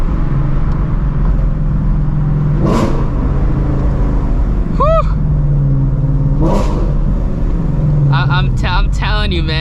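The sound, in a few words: Shelby GT350 Mustang Voodoo engine during regular driving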